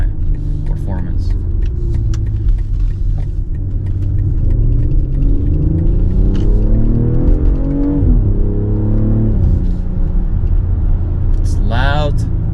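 A 2023 BMW X3 M40i engine pulling hard under acceleration, a loud rising rumble that climbs in pitch and drops sharply at each quick gear shift, heard from inside the cabin.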